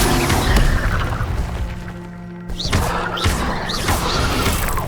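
Incendio fire spells are cast in Hogwarts Legacy, loud whooshing bursts that repeat with a booming flare near the start, a brief lull, then more blasts over a tonal game score.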